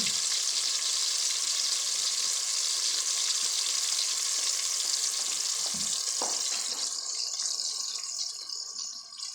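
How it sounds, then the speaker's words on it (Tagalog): Garlic frying in a pan toward golden brown, a dense continuous sizzle with a few stirring scrapes and clinks near the middle, easing slightly toward the end, with no voices. "Hintayin natin mag golden brown yung bawang mga boards."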